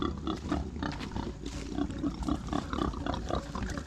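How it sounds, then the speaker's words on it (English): A pig squeals and grunts continuously nearby, rough and agitated after touching an electric fence wire, with no talking. "one of the pigs just touched the hot wire."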